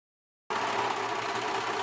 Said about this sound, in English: I'm going to overlock the edges.